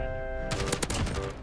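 Rapid bursts of automatic gunfire from a Call of Duty Modern Warfare multiplayer match break in after a sustained tonal hum, several loud cracking shots in quick succession that fill the rest of the moment.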